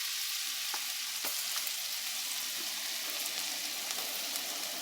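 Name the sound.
garlic frying in butter in a pan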